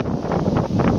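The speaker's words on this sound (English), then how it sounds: "It's pretty windy out here," Strong wind buffets the microphone outdoors in a short, loud, rumbling gust with no speech.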